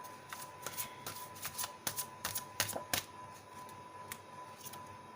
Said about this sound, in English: I want to shuffle it properly before taking out a card for you